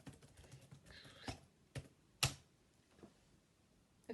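Laptop keys are tapped to enter a password, a handful of quiet, irregular clicks with one sharper keystroke near the middle, close and alone.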